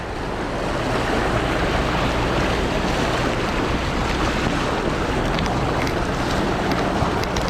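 Floodwater sloshes and surges in steady, loud broadband waves around someone wading through a heavy 2021 flood in Chaiyaphum, Thailand, with constant rushing and churning and no talk.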